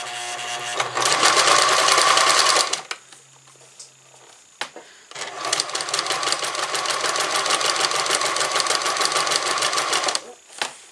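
A sewing machine stitching fabric piping over cord runs in two long, loud, close bursts of rapid mechanical whirring and ticking, separated by a short pause with faint handling clicks, and a brief knock at the end.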